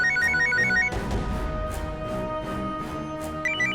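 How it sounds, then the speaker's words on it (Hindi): A mobile phone rings with a repeating electronic melody, loud and close, with a deep thump partway through, in a courtroom drama setting. "आप उठाइए अपना मोबाइल"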